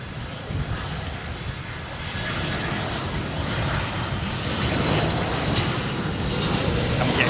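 An aircraft taxis past on the ground, a steady broadband engine roar that builds slightly and holds throughout, fairly loud and continuous with no talking.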